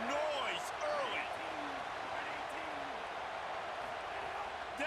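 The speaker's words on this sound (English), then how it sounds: "This crowd bringing the energy and noise early." Stadium crowd noise fills a College Football 27 video game broadcast, a steady, moderately loud roar with scattered whistles and calls rising over it, unbroken across the whole stretch.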